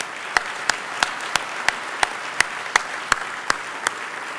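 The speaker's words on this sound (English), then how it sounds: "Let's give all of these nominees a round of applause." Sparse, steady clapping from an audience, distinct sharp claps spaced about evenly over a soft wash of background clatter.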